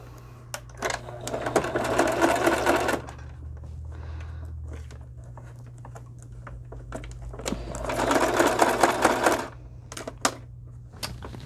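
A sewing machine stitches a folded stamp card in two loud, rapid bursts of several seconds each, separated by a quieter pause with scattered clicks and a low steady hum underneath.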